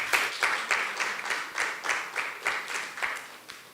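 Brief round of applause for elected government members at a youth conversation event in Anguilla, a small group clapping in pulsing bursts at a moderate level with no talk over it.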